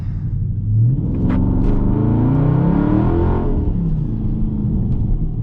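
Dodge Charger Scat Pack muscle car V8 engine rumbling loudly up close, a deep steady idle swelling into a throaty rev and settling back, with no talking over it.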